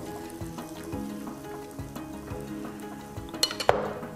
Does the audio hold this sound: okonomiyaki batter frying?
yes